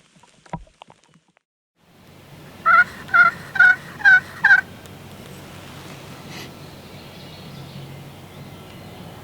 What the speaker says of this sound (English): We kind of blindly got in here on a gobbler.